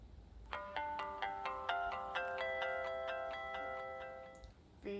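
An old Verizon cell phone powers on with its startup tone, a bright electronic chime of rising notes that stack into a sustained chord, then fades, with a short click or blip at the end.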